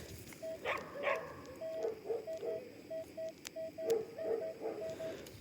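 An old bicycle's signal sounds as a series of short, thin tonal beeps in quick, slightly uneven rhythm, fairly faint and set against quiet outdoor background noise with a few soft knocks.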